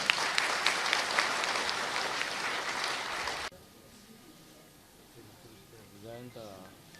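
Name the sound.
applause from an audience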